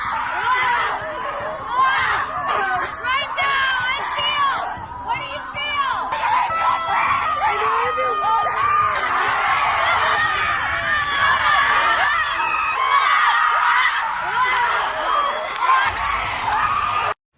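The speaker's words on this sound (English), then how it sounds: "engaging in a ceremony involving screaming and beating the ground with large sticks" A group ritual of scream therapy, with participants screaming and beating the ground with large sticks; overlapping shouts and cries from many voices run continuously and fairly loudly, crowd-like, with no clear separate strikes.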